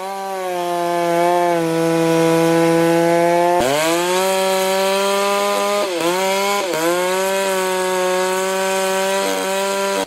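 Chainsaw cutting a horizontal cut and then a downward diagonal slice to form a felling notch at the base of a large tree trunk, a loud, steady high-pitched motor whine that dips briefly as the chain bites into the wood, heard close and alone.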